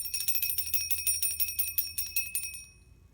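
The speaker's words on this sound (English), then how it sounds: "I really like my little bell." A small crude hand bell rings in a fast, steady series of bright metallic strikes for over two seconds before fading out, with no voices.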